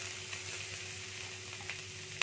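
Grated carrot stirred in a hot pan, a steady soft sizzle running throughout with a few faint scrapes near the end.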